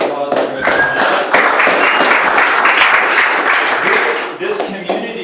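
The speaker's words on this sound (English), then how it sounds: "round of applause for everyone" An audience at a startup community event bursts into close, loud applause that stays dense for several seconds, with voices mixed in as it fades.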